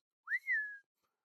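A single human whistle imitates a slide whistle, one quick rising swoop that levels into a sustained sliding tone for about half a second, then silence.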